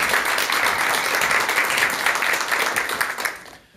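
Audience at a lecture on empathy applauding to welcome the speaker: dense, steady clapping from a crowd that holds strong, then fades out toward the end.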